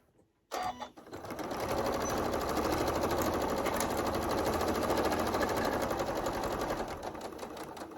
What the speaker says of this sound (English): we will do a back stitch and we will sew all the way up to this other side